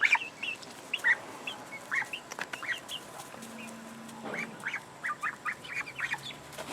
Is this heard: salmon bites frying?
no